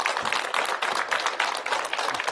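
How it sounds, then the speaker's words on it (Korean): Studio audience applause welcoming a lecturer onto a Korean television lecture stage, a steady dense wash of clapping throughout. "큰 박수로 맞아주십시오"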